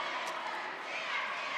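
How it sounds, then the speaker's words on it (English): Crowd murmur filling TCU Gym at a high school basketball game, a steady soft wash of chatter and movement with no distinct cheers, heard at a distance. "we've got a good crowd on hand here at TCU Gym inside the area"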